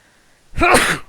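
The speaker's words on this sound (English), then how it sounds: "Gesundheit." A single loud, close sneeze bursts out after a short quiet moment.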